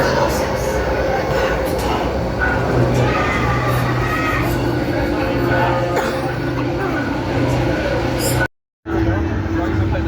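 A loud, rumbling roller coaster train on the Colossus ride at Thorpe Park starts its ride and rattles along continuously, with mechanical clatter and a brief cut near the end.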